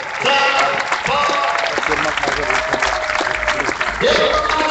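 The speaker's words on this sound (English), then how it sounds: "Give them a round of applause." Audience clapping at a Los Angeles city council inauguration, sustained applause from a large crowd with voices talking over it and faint cheers.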